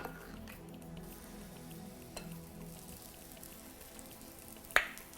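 Zucchini pancake batter frying in oil on a grill pan, producing a quiet, steady crackling sizzle with scattered small pops and one sharper knock near the end, heard alone.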